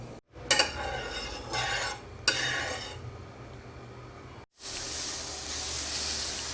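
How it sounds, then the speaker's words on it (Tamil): Dosa batter hitting a hot griddle greased with sesame oil, giving short hissing bursts and then a loud, steady sizzling hiss that fills the last seconds. "தோசை ஊற்ற ஆரம்பித்தாச்சு."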